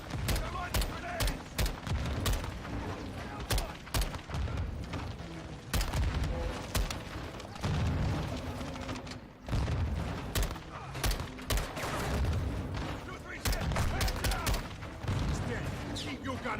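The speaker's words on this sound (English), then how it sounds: "Incoming. Take cover. They're launching grenades." Rapid bursts of gunfire and booming grenade blasts from a Call of Duty battle, dense and loud throughout, with repeated sharp reports and heavier thuds, while voices shout over the combat.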